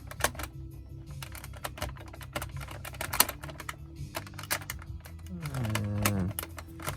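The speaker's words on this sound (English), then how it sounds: "there's a bunch of these little tie downs all over the place, so we're going to surgically just cut those." Small clicks and snips from cutting plastic tie-downs off the packaging of a Doom Marine figure, a series of quiet, irregular ticks close up, with someone talking over them.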